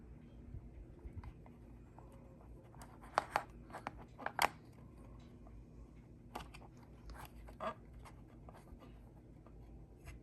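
Bare metal foil being trimmed at a cut line with a blade, a few quiet, sharp cutting snips and scrapes standing out against a faint, hushed background.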